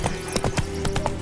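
Roach, the horse in The Witcher 3 video game, trots with steady clip-clop hoofbeats, about eight even strikes, close and clear over a faint background drone, with no talking.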